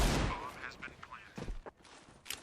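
Pistol gunfire during a three-on-three retake in a Counter-Strike esports match, with a few sharp shots near the start followed by scattered clicks and footsteps under an excited commentator's voice.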